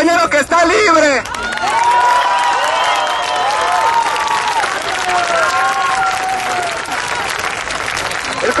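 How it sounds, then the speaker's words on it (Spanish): Crowd at a rally in a city square after a march breaks into loud sustained applause and cheering, with whistles and shouts rising over the clapping and a voice heard briefly at the start. "les pido, compañeros, todos un gran aplauso al compañero que está libre"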